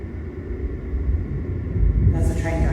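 Train rumbling over railway viaduct arches in Glasgow, a low continuous rumble that swells toward the end with a brief higher hiss, heard from inside a building with faint voices in the background.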